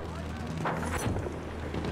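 Rocket explosions in the video game Battlefield 1 on the Sinai Desert map give a few muffled booms and rumbling bursts over dense battle noise, with players talking throughout.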